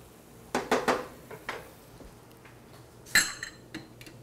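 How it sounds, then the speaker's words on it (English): Fresh chopped parsley stirred through a pan on a kitchen stove, giving a few close clinks and scrapes of a utensil against the pan, with a sharper knock near the end and quiet gaps between. "Let's give that a little stir"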